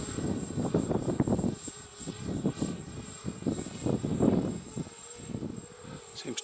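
Hexacopter drone running an old 8-bit APM Arducopter flight controller, flying over a runway outdoors; a steady high-pitched motor whine sits over gusty wind rumble, rising and falling as it manoeuvres at moderate distance.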